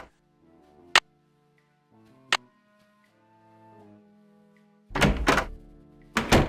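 Locked door handle in a Nancy Drew haunted carousel game rattling twice in loud, close bursts near the end, after a couple of sharp thunks over quiet background music.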